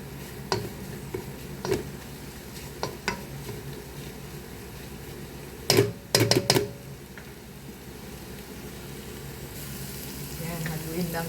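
Sautéed bitter gourd with egg sizzles steadily in a frying pan while a utensil stirs it, with sparse light clicks and a quick cluster of scraping knocks midway, all close-up over the constant frying hiss.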